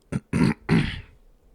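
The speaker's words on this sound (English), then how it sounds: "just had to clear my throat." Someone clears their throat close to the mic in three quick rasping bursts, the last one longest, then silence.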